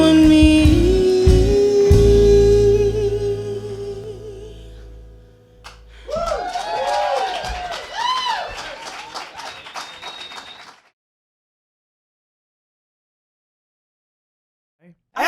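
An audience in a small music venue claps and cheers for a band as their song rings out and fades. The applause and shouts swell for a few seconds, then cut to silence.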